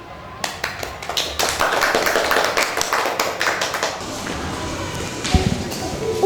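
Hands clap together in a lively group rhythm at a Karo gathering with drum music, steady and close for several seconds alongside shuffling and taps.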